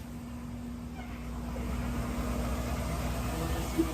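A Scania truck engine of about 560 hp being cranked and started on a factory test stand, heard as a steady low mechanical drone with a constant hum that rises slightly, near and continuous, with no talk over it.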